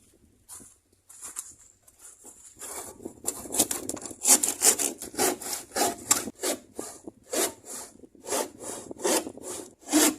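A hand saw cutting through wood from a sailboat's hull during a repair, a steady run of close, loud rasping strokes that speeds into a quick back-and-forth rhythm.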